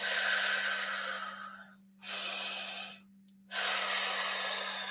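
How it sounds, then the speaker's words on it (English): Slow deep breaths taken during a live biofield tuning session, two long airy inhalations or exhalations separated by short pauses, soft and close, with a faint steady hum underneath and no speech. "Let's take some deep breaths before we do that."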